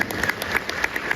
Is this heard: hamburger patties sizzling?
no